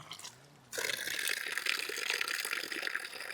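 Water gushes from a small tank high on a Himalayan mountain trail in winter, starting abruptly after a quiet moment and then running as a steady, close, splashing flow.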